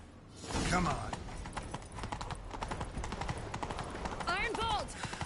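Rhythmic hoofbeats of a horse galloping quickly in The Witcher 3 video game, with a brief whinny near the end and a voice talking under the steady clatter.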